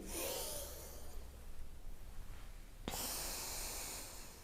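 Close, quiet breaths during a spinal mobility exercise: a long airy inhale, a pause, then a sharp onset of another breath, soft and near with no voices.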